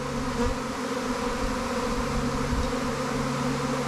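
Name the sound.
honey bees swarming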